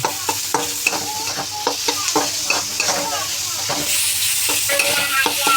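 Capsicum and onion sauté in a pan for veg noodle momos, with a lively close sizzle and frequent rhythmic spatula scrapes and knocks against the pan.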